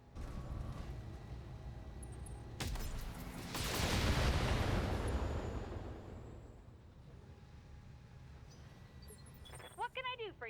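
Mech weapons in the BattleTech video game fire in a heavy salvo, a loud roaring burst of broadband blasts swelling mid-clip and then fading into rumbling game noise, with a sharp electronic warble near the end.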